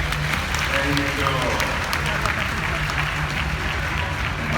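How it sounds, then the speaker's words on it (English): Audience applause at a bird show at Bird Paradise in Singapore, a steady broad clapping from a crowd lasting throughout, with a voice speaking over it. "She's waiting for her round of applause."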